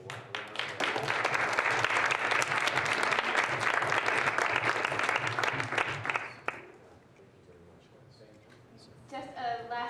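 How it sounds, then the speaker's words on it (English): Applause for a panel of speakers at a conference on education in conflict and emergency settings: dense, sustained clapping from an audience fills the first six seconds, then falls away into quiet room noise. "let's just give them a round of applause."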